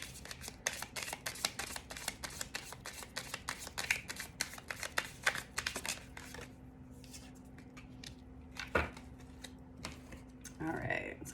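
Tarot cards are shuffled by hand in quick, rapid riffling bursts for several seconds, then a few softer, scattered card handling sounds follow, close and fairly quiet.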